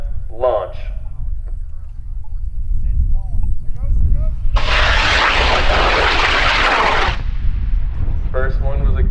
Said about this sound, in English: we're launching Fred's rocket off of Buster, middle of the range, in 5, 4, 3, 2, 1, launch.